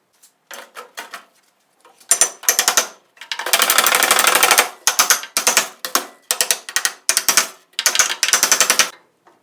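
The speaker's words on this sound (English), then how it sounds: "I'm gonna weld me a piece of square tubing from here all the way across to here." Square steel tubing is welded for a Jeep CJ body mount on a Toyota frame swap: loud, close crackling bursts of uneven length, with several short strikes and one longer sustained run.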